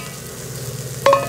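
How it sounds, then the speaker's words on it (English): Bell peppers sizzle steadily in a pan on a Southwest Disk outdoor griddle, with a soft scraping stir near the end as a spatula moves them around; close and fairly quiet, no talk. "I've been stirring these peppers around a little bit"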